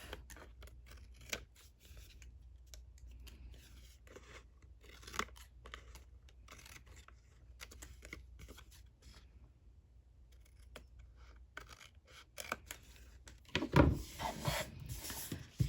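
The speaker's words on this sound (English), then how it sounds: "all you're going to do is flip this over and you're going to cut off any extra, any overhang" Scissors trimming excess paper overhang from the edge of a 6x6 mini album back cover, quiet intermittent snips and paper rustles close by, with a louder burst of crinkling handling near the end.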